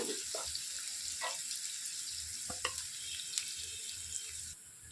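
Sliced onions and bitter gourd pieces fry in a pan for a bitter gourd stir-fry, giving a steady close sizzle with a few light stirring clatters and no talk.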